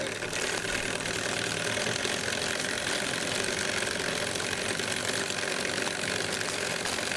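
Mamod Telford model steam engine running with its safety valve lifting, heard as a steady close chuffing hiss and rapid mechanical rattle throughout, with no talk.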